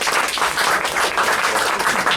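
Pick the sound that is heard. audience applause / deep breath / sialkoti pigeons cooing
audience applause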